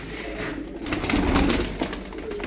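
A male Arab-breed pigeon coos close by, giving a short, throaty rolling coo while chasing a female.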